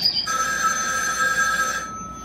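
A telephone bell rings in one steady electronic burst lasting under two seconds, clear and fairly close, with no talk over it.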